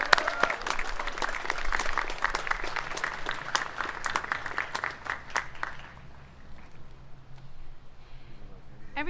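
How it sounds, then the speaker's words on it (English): Audience applause at the Army and Navy Academy 2024 commencement, a dense wash of many hands clapping from a sizable crowd that carries steadily for about six seconds, then thins and fades into quieter room noise. "Please join me in a round of applause for all of these incredibly dedicated staff members."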